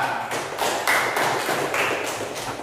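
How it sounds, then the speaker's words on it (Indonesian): Classroom applause for group 2, a steady patter of many hands clapping together, fairly loud and continuous, with no talking over it. "Kasih tepuk tangan untuk kelompok 2."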